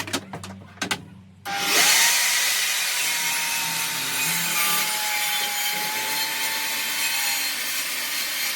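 After a few short knocks, a track saw starts up and cuts through a worktop, the blade whining in a steady, loud, close drone for several seconds.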